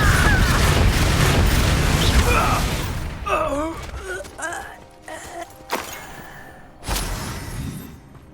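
A Confringo explosive spell blast in Hogwarts Legacy, a loud rumbling burst filling the opening seconds, followed by sharper crackling impacts and spell effects with game voices speaking.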